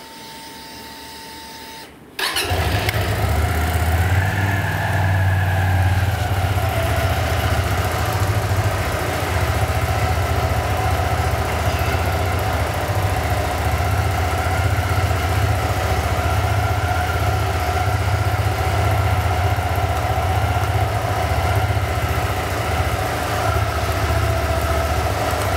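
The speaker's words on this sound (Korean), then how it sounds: "이제 시동 좀 걸어 놓을게요." A Hyosung Aquila GV125S motorcycle engine starts and then idles steadily with a low, even throb that carries on alone at constant loudness.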